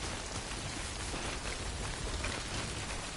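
Steady, dense rain pours down without a break in the video game Death Stranding, a close, even hiss of drops hitting the ground with no voices.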